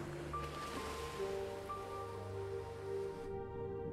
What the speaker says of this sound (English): creeps toward the distinctive sound of seal and surf